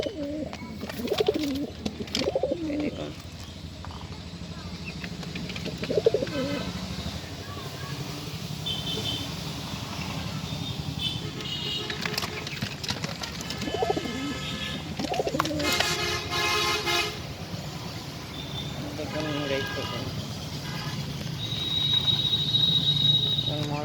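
Giribaz pigeons coo repeatedly at close range, soft throaty calls rising and falling amid rustling, with a person talking intermittently over them.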